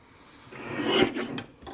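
A single short rasping cut as a paper piece is trimmed for scrapbook pages, swelling to a close scratchy peak and fading with a couple of small scrapes.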